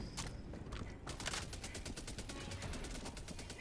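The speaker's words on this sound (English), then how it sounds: "The sound of the gun going off, or the enemy exploding?" A gun fires steadily in the Helldivers 2 video game, a rapid, regular string of shots forming a continuous automatic burst over game ambience, with no talk.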